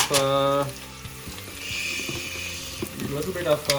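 Hot oil popping and sizzling in a pan while vegetable kuruma is cooked, a soft hiss with scattered crackles running under a voice that talks at the start and again near the end.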